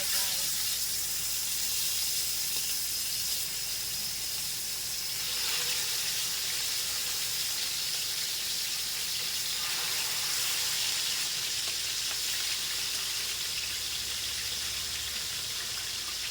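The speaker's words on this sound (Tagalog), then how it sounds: "mag-iprito na tayo" Food frying in a pan while lunch is being cooked gives a steady, close sizzle and hiss that runs throughout. It sits under intermittent talk.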